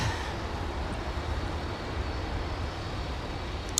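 A Delta Airbus A330 heavy jet taxiing at snowy winter MSP airport, a steady, broad, distant engine rumble and whine that holds constant throughout with no talk.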